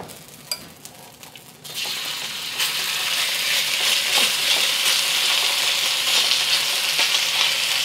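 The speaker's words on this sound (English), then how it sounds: "We're gonna get our beef going." Beef drops into hot oil in a wok: a few clinks, then a loud burst of sizzling that swells and holds as a steady, dense frying hiss.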